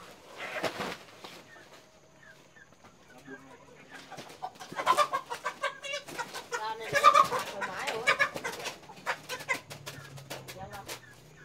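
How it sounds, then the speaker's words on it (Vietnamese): Hens and roosters on a highland village farm give scattered clucks and squawks at moderate distance, mixed with people talking nearby throughout. "Cái gà ông nọ mua vào thì đã đẻ rồi cô bác ạ."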